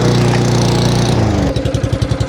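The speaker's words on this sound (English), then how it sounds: "We're going to cut down or lightly scalp this bent / kikuyu lawn." A petrol lawn mower runs at full throttle while scalping a bent and kikuyu lawn, its loud, steady engine drone close by and turning rougher and choppier partway through as the blades bite into the grass.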